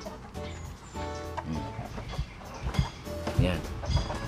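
Native and Australorp chickens cluck and fuss at feeding time, short bird calls scattered under near, continuous talking.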